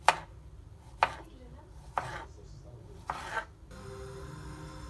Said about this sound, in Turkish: ilk önce muzları doğruyoruz